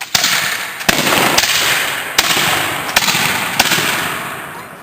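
Muskets fire by file at a historical presentation: six loud, sharp reports at uneven intervals over a continuous rolling roar, each shot cracking out separately rather than as one volley.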